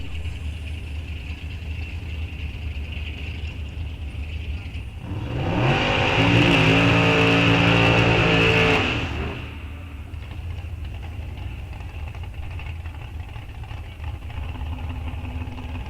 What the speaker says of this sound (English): Big block powered Chevrolet. Look at this thing. 454 cubic inches.